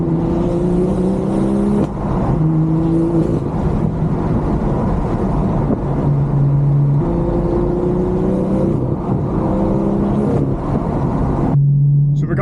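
BMW M240i with a manual gearbox, its engine revving hard through repeated rising pulls with brief dips at shifts and blips, loud and close with a gritty rasping tone.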